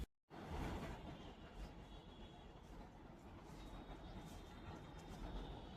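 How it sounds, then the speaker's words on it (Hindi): Metro train rumbling past at a distance at night, a steady low roar with faint screeching, fairly quiet, after a brief moment of silence at the start. "और ये मेट्रो भी जा रही है।"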